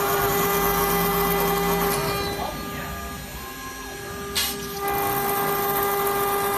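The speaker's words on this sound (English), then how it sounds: "Now we are cutting acrylic sheets." Large CNC cutting machine with an Italian HSD spindle and servo drive cutting acrylic sheet, giving a steady whining machine drone with tonal hum throughout and a brief sharper burst near the end.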